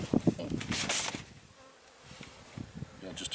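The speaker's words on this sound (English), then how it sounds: "got just a few bees at the top." Honey bees buzz around an open beehive during an outdoor hive inspection, a faint, intermittent droning with a few brief closer passes and soft handling noises.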